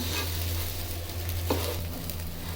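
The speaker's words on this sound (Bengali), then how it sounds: "আমাদের চাল ভেজে নেওয়া কমপ্লিট।" Rice sizzles and is stirred in a pot of hot oil while being fried for ilish polao, a steady crackling hiss broken by a brief scrape of the spoon.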